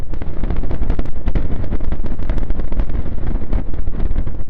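SpaceX Super Heavy rocket launching, a loud rumbling roar with dense crackling bursts and buffeting, sustained and unbroken, with no voices.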